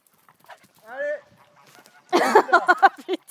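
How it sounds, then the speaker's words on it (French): Farm chickens break into a loud, raucous burst of squawking and cackling, preceded by a shorter rising call and faint background noises. "Putain, les poules."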